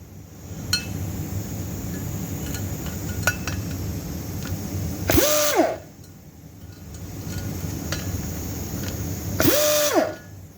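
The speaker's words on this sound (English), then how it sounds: "Milling these heads" A milling machine resurfacing LS Chevy cylinder heads, with a steady mechanical whir and faint clinks, broken by two loud sweeping passes of the cutter, each with a rising and falling tone.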